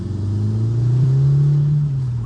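A tuned VW Golf R with a bigger turbo and an upgraded exhaust rumbles loudly up close, its engine note rising and holding steady as the car pulls under load.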